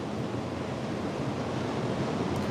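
Rough waves on the Gulf of Mexico churn in a steady broadband roar of surf, with wind buffeting the microphone, continuous and close with no voices.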